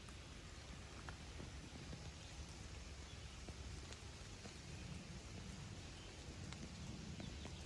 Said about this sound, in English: It's raining, but I gotta stop and take my camera out for this